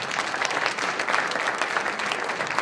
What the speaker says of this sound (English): can we get one last round of applause for Team Texas?